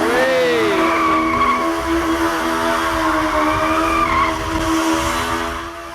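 Stunt motorbike spinning in circles around the camera, tyres skidding: a loud, continuous squeal of rubber with a droning engine underneath, close and sustained, fading slightly at the end.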